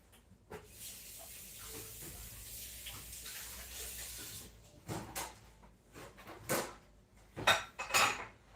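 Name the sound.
washing hands under running water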